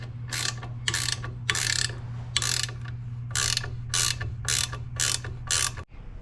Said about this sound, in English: we're gonna get these on, wrench it down, and then we'll end up torquing it down